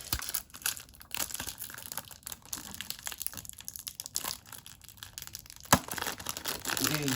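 Packaging for a 1/64 scale Tarmac Ferrari 355 Challenge model being unboxed, with close crinkling, tearing and rustling of plastic and cardboard in irregular bursts, and one sharper snap near the end.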